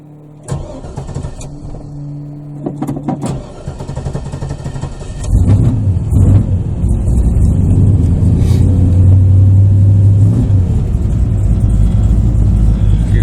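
LS V8 swapped into a 2006 Monte Carlo converted from front- to rear-wheel drive, cranking a few times then catching and settling into a loud, deep, rumbling idle with some revving, very close.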